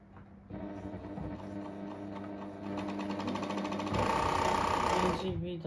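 A freshly oiled Pfaff 1229 sewing machine runs with a rapid mechanical clatter and hum that speeds up in steps and grows louder, then stops abruptly, heard close up.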